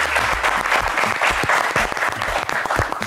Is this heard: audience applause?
yes